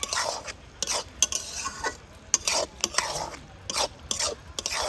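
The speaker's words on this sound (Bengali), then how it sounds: "এবার সব কিছু খুব ভালোভাবে মিশিয়ে নেব" Pasta tossed in a pan with fried egg, a spoon or spatula scraping and clattering against the metal in repeated stirring strokes over a faint sizzle, heard up close with no talking.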